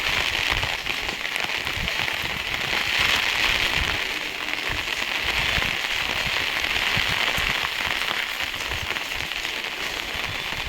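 Steady, dense rain from Cyclone Ditwah pouring down continuously in Thondi, Ramanathapuram, an even wash of pattering with no pauses and no voices.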